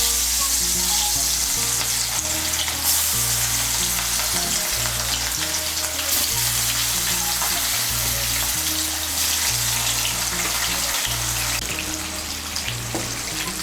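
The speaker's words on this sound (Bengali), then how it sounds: "এর মধ্যে আমি মাছগুলো ভেজে নিচ্ছি।" Rui fish pieces, marinated with chilli powder, fry in hot oil with a loud, dense, continuous sizzle, while a rhythmic low musical bass pulses underneath.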